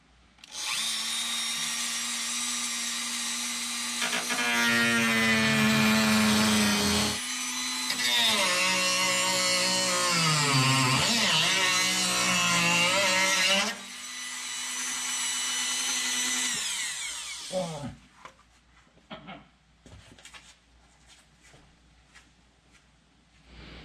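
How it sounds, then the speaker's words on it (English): A Dremel rotary tool cuts through fiberglass on a Tide car headlight mod, giving a loud, sustained high-pitched whine that shifts in pitch as the bit bites and eases off over about fourteen seconds, then winds down to quieter handling noises. "Cutting fiberglass with a Dremel, probably a terrible idea"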